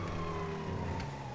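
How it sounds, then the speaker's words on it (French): A sports car driving in GTA 5, a steady droning engine note holding constant pitch at speed, close and continuous, with a faint brief swish partway through. "c'est si bien de conduire une voiture sportive"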